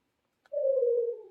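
A pet talking bird gives a single soft, drawn-out coo like a pigeon, close and clear, lasting about a second after a faint click, with no talking.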